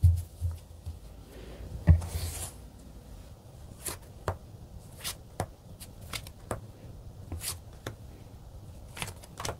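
Tarot cards being shuffled and drawn by hand, soft close riffles and taps followed by a string of quiet separate flicks and slaps.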